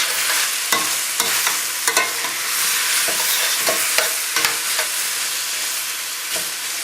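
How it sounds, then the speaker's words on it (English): Spinach sautéing in a pan with turkey medallions and vegetables gives a steady close sizzle and frying hiss, broken by repeated clicks and scrapes of stirring throughout. "once this spinach cooks down, you'll have like a half a cup maybe"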